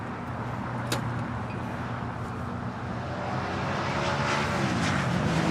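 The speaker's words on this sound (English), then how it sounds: "Emirates A380 continuing his taxi on Alpha here on the south side" An Emirates Airbus A380 taxis on a taxiway at Los Angeles International Airport, its engines giving a steady broad rumble and whine that swells slightly louder toward the end, heard from a moderate distance with no one talking.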